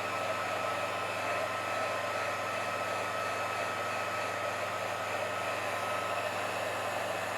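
A hair dryer blowing on a coating applied to glass before laser engraving: a steady, loud, close whoosh of air with a constant motor whine, unchanging throughout with no talk.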